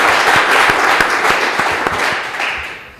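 Audience at a quiz game show in Lubumbashi applauds a contestant's correct answer, a dense, loud burst of clapping that fades toward the end.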